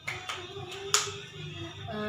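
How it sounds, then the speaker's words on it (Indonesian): A class of schoolchildren claps hands in a classroom, giving a few scattered, sharp claps rather than sustained applause, with voices and background sound around them. "Mari kita tepuk tangan dulu."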